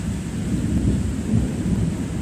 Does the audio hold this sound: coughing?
no